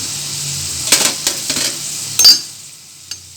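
Spiced gooseberry (amla) thokku pickle with turmeric, chilli and fenugreek powders stirred in a pan over a low flame, with a soft sizzle and a few sharp spoon scrapes and clinks against the metal, close and with no voices.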